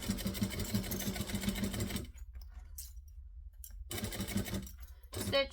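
A sewing machine stitches forward and then back stitches on a fabric organizer, a close steady mechanical whir for about two seconds, a pause, then a shorter second run with a faint click.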